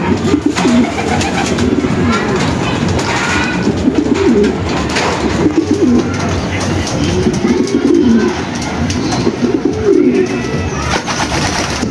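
Racing pigeons coo steadily in a loft, a dense layered murmur of low throaty calls close by, with faint background noise and no clear speech.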